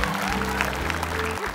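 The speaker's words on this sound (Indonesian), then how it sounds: "Tepuk tangan" A television comedy studio audience applauds in a brief, lively burst, with musical tones sounding underneath the clapping.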